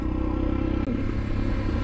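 Royal Enfield Himalayan motorcycle, nearly new with about 1,367 km on it, being ridden: a steady, loud low engine drone with rattly clatter, briefly dipping for an instant midway.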